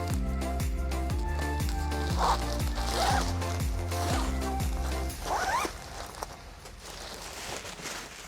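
A zipper draws shut around an Epona Co. Zen Chair bean bag cover in a run of quick, rhythmic ratcheting pulls, followed by softer rustling and handling of the fabric.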